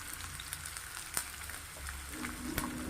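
Mixed vegetables such as cauliflower, carrot, peas and green beans sautéing in oil in a pan: a steady, moderate crackle and sizzle throughout, with a few sharper pops and a low background hum, no voices.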